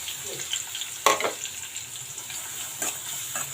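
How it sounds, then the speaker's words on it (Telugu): Sliced onions and green chillies frying in a pan with oil: a soft steady sizzle close by, broken by a few sharp stirring clacks, with no talk over it. "మనకు ఆనియన్స్ ఇలా వేగితే సరిపోద్ది"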